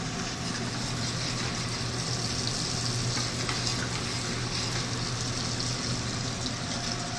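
Butter sizzles steadily in a hot pan with prosciutto ham, a dense, even frying hiss running close and constant with no voices over it.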